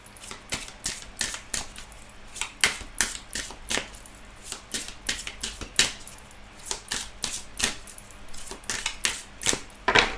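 Tarot cards being cut and shuffled, a rapid series of crisp snapping flicks at close range with no voices over them.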